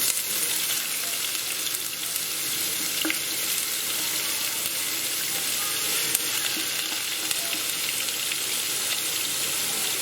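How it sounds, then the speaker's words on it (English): Blended onions for a prawn and mushroom bhuna fry in a pan with a steady, loud sizzle and occasional stirring scrapes, with no voices heard. "now that's done, we can put our onions in"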